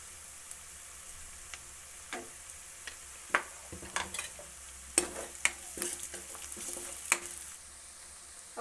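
Tomatoes and ginger paste cook in a curry pan, giving a faint steady sizzle broken by sharp scrapes and clicks of stirring, with no voices.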